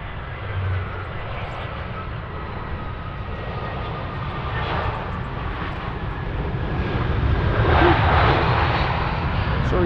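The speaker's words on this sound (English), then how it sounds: "But for now, enjoy the Austrian retro livery Airbus" Austrian Airlines Airbus A320 in retro livery landing on runway 25R at a freezing Frankfurt airport, a steady broadband jet roar that swells gradually toward the end, heard alone without talk.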